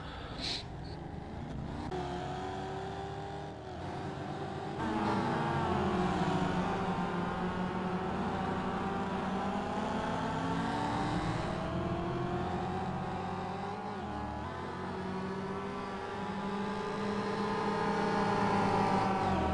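Mazda MX-5 race cars pass on the Homestead circuit, engines droning and shifting pitch as they rise and fall, a steady layered roar heard from a distance.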